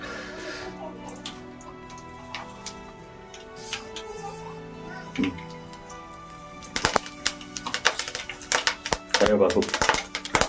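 Tempering spices are dropped into hot oil and crackle in sharp, scattered pops that grow louder and busier toward the end, with voices talking underneath.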